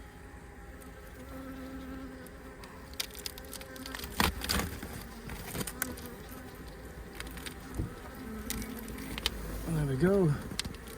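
Honey bees swarming from a five-year-old colony during a relocation, a faint buzzing drone under scattered knocks and handling sounds, with someone speaking briefly.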